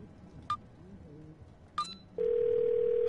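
Telephone dial tone from a handset in the video game Twelve Minutes, preceded by two short keypad beeps, then a steady continuous tone holding to the end, fairly clear against a quiet background.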